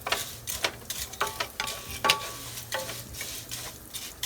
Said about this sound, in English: Stir it until it becomes a little brown.